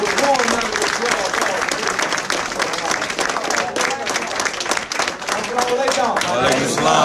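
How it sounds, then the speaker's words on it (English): A crowd in Newark, New Jersey gives Brother Nuri Muhammad a warm round of applause as he is introduced, loud, continuous clapping from many people with a voice speaking over it. "With warm round of applause."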